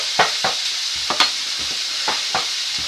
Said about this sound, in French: Tu déglaces au jus de citron et la crème fraîche.